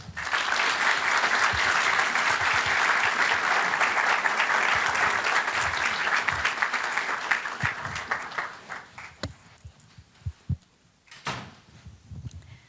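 An audience at a University of Notre Dame talk claps loudly to welcome the speakers, sustained even applause that thins out into scattered claps and shuffling after about eight seconds.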